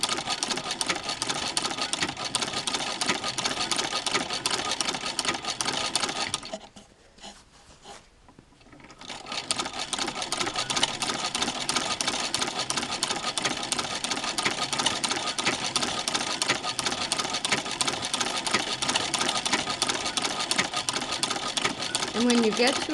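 Singer 15-88 sewing machine fitted with a zigzagger stitching fabric, a steady close whirring hum that runs continuously, pausing briefly for a couple of seconds before resuming at the same pace.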